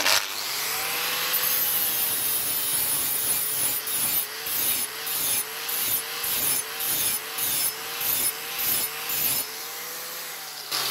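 A grinder works down a MIG weld on a metal car panel, with a steady motor whine broken by rhythmic, repeated grinding strokes about twice a second, loud and close with no voices.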